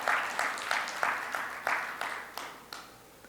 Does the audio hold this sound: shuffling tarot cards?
no